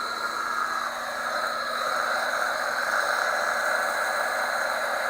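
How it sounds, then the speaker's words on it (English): A heat gun blows steadily while drying wet paint brushed over PVA glue on a wall hanger craft, a loud, constant broadband whoosh and hiss running unbroken from start to finish with no talking. "and then you get your heat gun"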